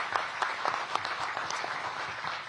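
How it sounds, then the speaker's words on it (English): Round of applause from an audience at a DC mayoral event on budget and economic growth, a dense patter of claps with some sharper individual hits, continuous for a couple of seconds. "Please give Kenyon a big round of applause"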